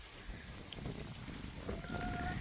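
Steady rain falling outside in Sacramento, California, an even patter of drops on surfaces with a faint tone cutting through near the end.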